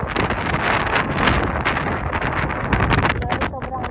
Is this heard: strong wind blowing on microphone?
yes